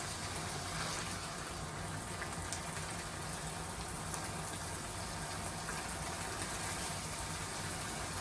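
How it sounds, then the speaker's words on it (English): Tap water running steadily while baby carrots are rinsed, a soft continuous splashing hiss with scattered droplet patter, faint and without talk. "So you can rinse some of that off."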